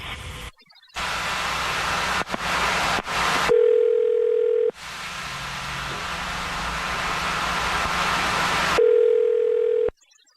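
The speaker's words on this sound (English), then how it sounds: "I'm going to dial the phone number right now" Steady telephone dial tone heard alone over a hissy line, broken by short gaps and dialing bursts, with two clean tone segments, loud and continuous until it cuts out near the end.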